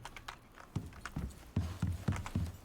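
A horse in the survival game Icarus clip-clops along with a series of uneven hoof thuds, some heavier and closer, at moderate loudness.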